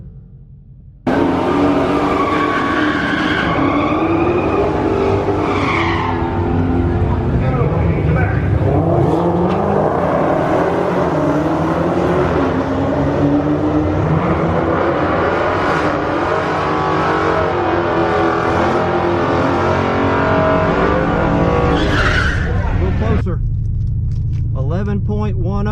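A Dodge Hellcat makes a drag racing pass down the strip: a loud roar erupts and keeps rising and shifting for about twenty seconds before cutting off abruptly. Voices can be heard under the engine.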